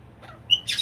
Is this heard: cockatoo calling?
yes